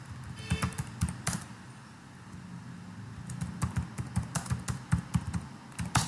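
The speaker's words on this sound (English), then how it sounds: "let me just go ahead and type" Typing on a computer keyboard to enter a search, with rapid clusters of crisp key clicks in bursts, a short pause in the middle, then another quick run of taps, close and clear.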